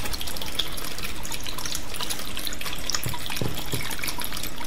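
A fountain running continuously, a steady close wash of splashing and trickling water that holds an even level throughout, with no voices.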